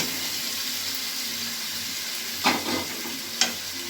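Soaked potato, pointed gourd and taro pieces drop into hot spiced oil for a taro, pointed gourd and prawn curry, giving a steady broad sizzle with two sharper bursts of crackle near the end, close and without speech.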